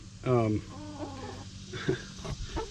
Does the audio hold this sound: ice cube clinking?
no